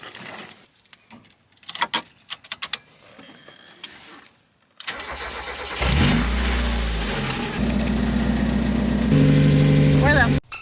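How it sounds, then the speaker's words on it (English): A car engine cranks and catches after a quiet stretch of rustling and handling noises, then settles into a loud, steady running rumble with a few revs rising toward the end. "I'm gonna grab my keys, start the car"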